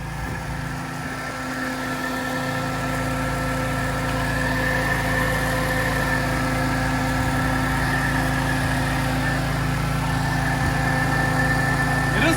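A BMW E46 M3 engine idles steadily with a slight vibration, a continuous, fairly loud low rumble with a faint hum that holds even and alone throughout.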